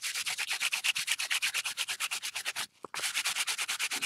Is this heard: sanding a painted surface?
yes